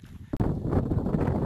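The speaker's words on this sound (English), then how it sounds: "It's pretty windy up here." Wind buffets the microphone in a steady, low rumbling roar on a mountainside near Mount Laguna, with gusty rustling throughout and no voices.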